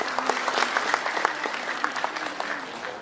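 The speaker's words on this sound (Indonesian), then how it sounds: "aplaus buat Pak Ali Hasan." Audience applause at a SOKSI West Java organisation event, honouring a 73-year-old speaker: steady dense clapping from a crowd indoors, continuous for about three seconds with slight swells.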